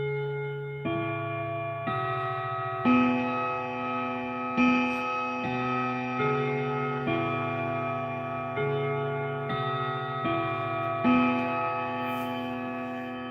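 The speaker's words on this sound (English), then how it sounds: "you can actually hear the clock doing its thing, and not only the chimes." A Kingsley clock ticks steadily with a sustained, ringing chime tone behind the ticks, repeating close and alone in a quiet room.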